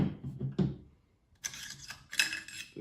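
Metallic clicks, slides and ratcheting scrapes of an AR-15 upper receiver being handled as the bolt carrier and charging handle are pulled out, in short close bursts separated by brief pauses.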